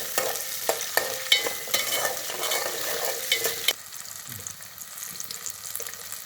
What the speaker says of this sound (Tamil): நல்லா மிதமான தீயாக வச்சுக்கிட்டு நல்லா சின்ன வெங்காயத்தை வதக்கணும்